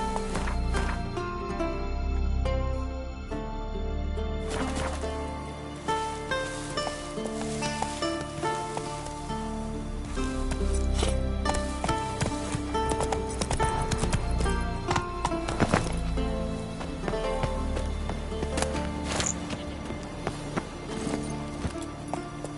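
A horse gallops in The Witcher 3, with a steady, rapid clip-clop of hooves running under game music and ambience throughout.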